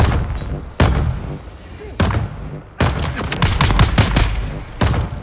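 Rapid bursts of gunfire from the video game Dune: Awakening, loud close volleys of shots broken by brief pauses, then a dense stretch of repeated rounds with faint talk underneath.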